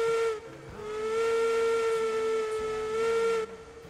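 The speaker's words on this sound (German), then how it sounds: "Ja, wo bleibt die Pfeife?" A steam locomotive whistle in the train game Railroads Online sounds as one sustained, steady hooting tone for over three seconds, loud and clear with a soft steam hiss around it.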